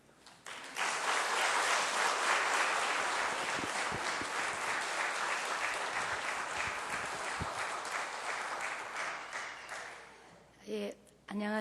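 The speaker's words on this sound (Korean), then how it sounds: "박수로 이렇게 맞이해 주십시오" A church congregation applauds to welcome the pastor's wife forward at a Sunday worship service, sustained loud clapping filling the room for about ten seconds before tapering off, with a few brief sounds near the end.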